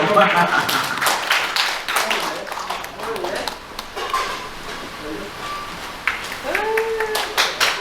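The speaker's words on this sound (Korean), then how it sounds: "이럴 때 박수 한번 쳐주세요." Elderly audience at a senior welfare centre clapping after a volunteer group's magic trick, scattered claps mixed with a performer talking and background chatter.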